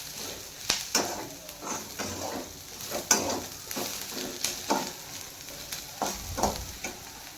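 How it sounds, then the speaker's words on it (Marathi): Onion roasts in a pan with a soft continuous sizzle while a spoon scrapes and stirs it in repeated close strokes, with no talking. "छान असा कांदा भाजून घेऊया"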